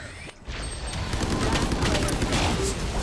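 Gunfire in the Valorant shooter game: after a brief quiet opening, a burst of sharp shots gives way to rapid, crackling rounds and clattering mechanical clicks, with a voice speaking partway through.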